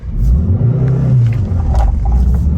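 Car pulling away from a standstill, with a loud close engine rumble and rising drone that swells and dips as it moves off, alone with no talk.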